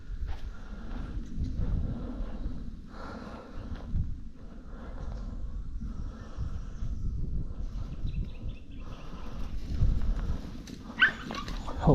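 A dog outdoors on a morning hunt gives a run of rhythmic yips and whimpering barks over steady background rumble, moderately close, with a louder sharp bark near the end.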